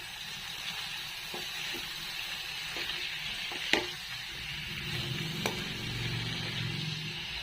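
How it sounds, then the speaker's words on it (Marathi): Fenugreek greens fry in a pan with a steady soft sizzle, broken by a few sharp clinks and scrapes from stirring, with no voices. "सगळी भाजी टाकून आता आपल्याला मिक्स करून घ्यायचं।"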